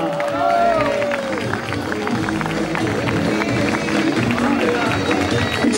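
A crowd applauds at a mountain bike marathon prize ceremony, steady clapping and murmuring throughout, with an announcer's voice and cheering mixed on top.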